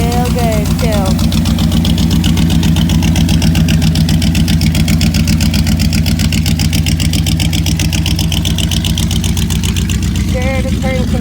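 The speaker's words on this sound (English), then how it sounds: "Check that engine out. He's pretty mean. He sounds real good too." The engine of a 1946 Chevrolet Coupe runs steadily at close range, a loud, even, rhythmic throb lasting throughout with little change in pace.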